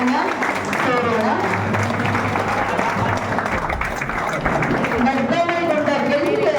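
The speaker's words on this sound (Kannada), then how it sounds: "ಎಲ್ಲರೂ ಚಪ್ಪಾಳೆಯ ಮೂಲಕ ವೇದಿಕೆಗೆ ಸಂಭ್ರಮದ ಸ್ವಾಗತವನ್ನ ಕೋರೋಣ." An audience at a formal event at Kanishka Hotel claps steadily to welcome guests onto the stage, sustained applause lasting throughout while a person talks over it.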